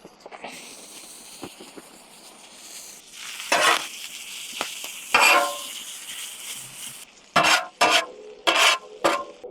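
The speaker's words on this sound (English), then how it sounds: "This is some leftover brisket I had in the freezer. I went ahead and gave it a rough chop inside earlier, and now it is going on." Roughly chopped leftover frozen brisket on a Blackstone griddle, a steady soft sizzle under repeated metal scrapes and clatters of spatulas or bench scrapers working the meat, close and intermittent.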